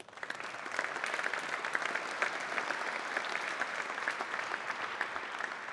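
An audience applauds at a startup demo day event, dense sustained clapping from a sizeable crowd, steady and even throughout.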